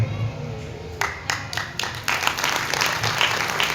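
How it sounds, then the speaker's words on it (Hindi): A burst of audience applause at a Hindu religious discourse, rising from scattered claps into steady clapping, moderately loud, with faint background murmur. "ताली आपने पहले बजा दी"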